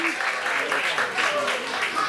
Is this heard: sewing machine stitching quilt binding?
no